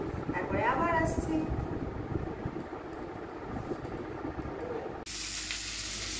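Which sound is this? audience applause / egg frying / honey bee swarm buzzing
egg frying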